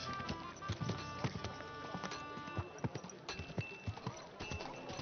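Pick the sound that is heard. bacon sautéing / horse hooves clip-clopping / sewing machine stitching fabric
horse hooves clip-clopping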